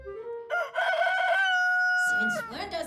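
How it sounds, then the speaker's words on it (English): A rooster in an animated cartoon crows one long, clear cock-a-doodle-doo close by in a city, followed by a brief rustle of other sounds at the end. "Since when does Big Apple City have a rooster?"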